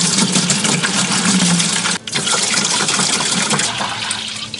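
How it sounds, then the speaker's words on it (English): Water pours from a tap into a bucket for a no-plumbing pottery sink, a loud, steady gushing fill with a brief dip midway before the flow resumes. "Maybe we should put water in the bucket first?"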